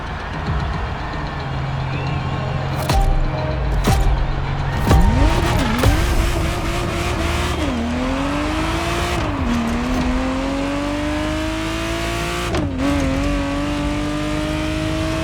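A Ferrari Testarossa engine in the racing game The Crew Motorfest revs up and drops repeatedly through gear changes, a loud continuous roar with rising and falling pitch sweeps.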